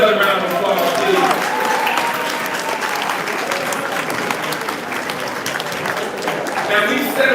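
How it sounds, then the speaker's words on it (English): Sustained audience applause fills a Malcolm X anniversary commemoration evening, a dense, steady clatter of many hands at close range that continues at even strength for the full span, with no speech over it. "Give her another round of applause, please."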